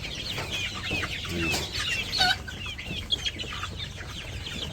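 Many chickens clucking together inside a village poultry farm shed, a dense continuous chatter with a few louder calls, fairly near and without talk.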